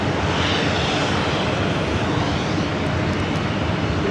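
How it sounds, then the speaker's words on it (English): A Delta Boeing 767 takes off at LAX, its engines giving a loud, continuous roar that holds steady throughout with no talk. "the Delta 767 will be our last takeoff of today"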